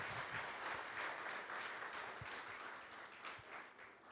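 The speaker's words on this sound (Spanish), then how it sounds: "Dele un aplauso, Señor, en esta mañana." Church congregation applauding during a morning service, a continuous, fairly distant wash of many people clapping that thins slightly toward the end, with a few sharper individual claps.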